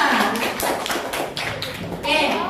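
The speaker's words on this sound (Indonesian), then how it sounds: "Tepuk tangan untuk kelompok 6." Students in a classroom clap for a group, a short uneven burst of close hand claps and taps with children's voices chattering over and between them.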